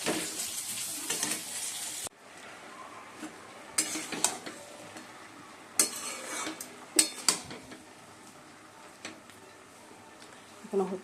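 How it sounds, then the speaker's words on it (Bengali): Spice paste of cumin, coriander and turmeric fried and stirred in a pan, with sizzling and repeated scraping and clinks of a metal spoon against the pan, close up, in uneven bursts with quiet gaps. "ভালো করে কষিয়ে নেবো মশলাটা"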